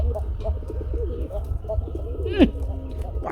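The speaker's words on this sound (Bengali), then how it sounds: "ডাক খুব সুন্দর ডাকে ভাই আলহামদুলিল্লাহ গুল্লা কবুতর" Gola pigeons coo in soft, repeated low calls at close range, with one sharper rising call near the end over a steady low background hum.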